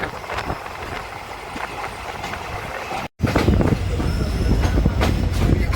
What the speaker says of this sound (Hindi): हाँ जी तो ट्रेन अपनी आ चुकी है नरवाना जंक्शन, फाइनली आ गई नरवाने में